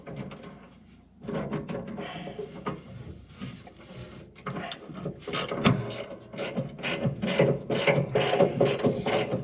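Bolts being tightened on the stationary knife of a John Deere Model 15 flail chopper, with rapid repeated ratchet clicks that grow louder and more regular toward the end, close up with no speech.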